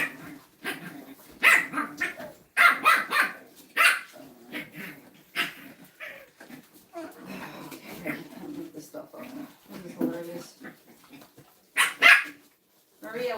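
French Bulldog puppies bark in repeated sharp yips and barks close by, with a few low growls mixed in, while a person talks over them throughout.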